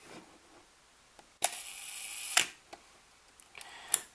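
A Pentax Asahiflex SLR camera shutter fires with a sharp mechanical clack, holds open about a second, then snaps shut, followed by fainter clicks and another sharp click near the end, close and isolated.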